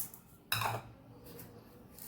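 A metal kadai pan being set down and handled in a home kitchen, one sharp clank followed by a short ringing scrape, then quiet.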